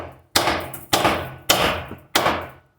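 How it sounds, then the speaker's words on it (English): A hammer strikes the tie rod joint on a Jeep Cherokee four times in a steady rhythm, each sharp metallic blow ringing briefly and close up, with no talk. "Flipping this upside down and tapping that until this drops."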